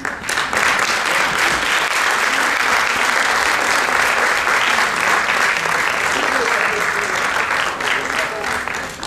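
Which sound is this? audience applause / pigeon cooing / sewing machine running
audience applause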